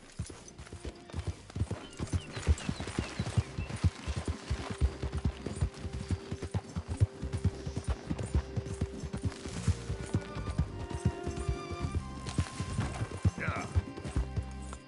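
Horse hooves clip-clop steadily in a mounted ride through Red Dead Redemption 2, a busy, continuous rhythm of hoofbeats, with a rider's brief voice coming over them.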